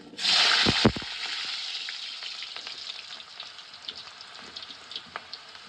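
Potatoes drop into hot oil with a loud, bursting hiss, then settle into a quieter, crackling sizzle with scattered pops.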